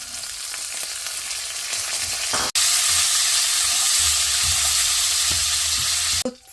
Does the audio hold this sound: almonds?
yes